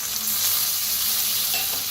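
Chopped tomatoes hit a hot pan of frying spices with turmeric and coriander powder, giving a loud, steady sizzle and crackle heard close up for a couple of seconds.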